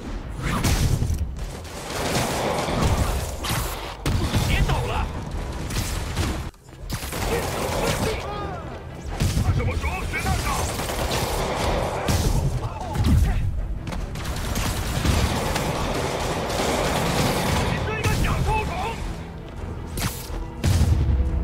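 Heavy gunfire in a Spider-Man video game, with rattling bursts, booms and thuds that keep up almost without a break beneath a loud mix of game sound, and voices at times over the shooting.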